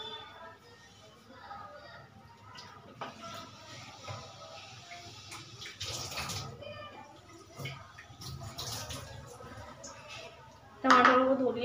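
Fresh red tomatoes are rinsed under running water in a kitchen, a faint splashing and trickling that continues beneath a woman's speech and grows louder near the end.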